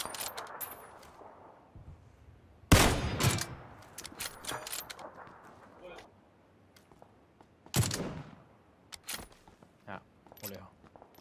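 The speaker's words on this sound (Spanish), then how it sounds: "Tiros detrás nuestra, ¿eh?" Bursts of gunfire in the battle-royale shooter PUBG, with two loud close reports and scattered fainter shots between, while players talk over the action.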